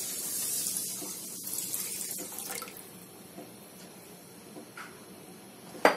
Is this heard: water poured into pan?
yes